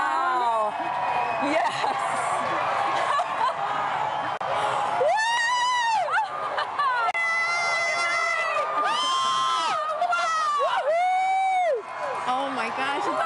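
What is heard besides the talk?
crowd cheering at total solar eclipse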